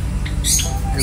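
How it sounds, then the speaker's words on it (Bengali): Java sparrows in an aviary cage shared with lovebirds and finches give short high chirps and squeaks over a low steady hum, a few brief calls close by. "এই যে জাভা স্প্যারো, এগুলো"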